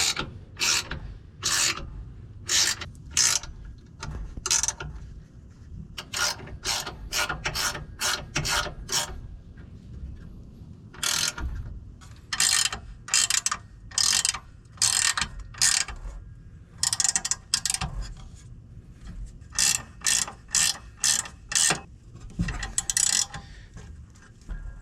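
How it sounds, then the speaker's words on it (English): A ratchet tightens 13 mm bolts on a bumper step bracket on a 2020+ Silverado HD. Bursts of rapid clicking repeat close by with short pauses between strokes, and no one speaks. "You can go ahead and tighten those up fully now."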